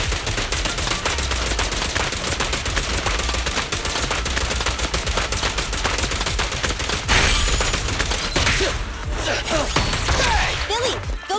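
Gunfire from the video game Zenless Zone Zero, a dense stream of rapid shots under busy game music and effects, with brief bursts and impacts continuing throughout.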